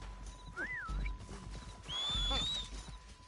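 A horse in the Red Dead Redemption 2 video game whinnies twice, a rising-falling neigh followed by a longer, louder one, with hoof clip-clops and game ambience beneath.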